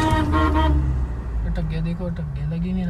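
At the start of a drag race between a Mahindra Scorpio and an XUV300, a short, steady car horn toot sounds up close, then someone talks over the idling background.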